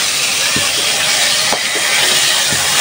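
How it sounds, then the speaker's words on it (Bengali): Hilsa and boal fish pieces frying in hot oil, a loud, steady, broadband hiss with faint dull knocks about once a second. "তো ভাগে ভাগে সবগুলো মাছ আমি ভেজে নিচ্ছি"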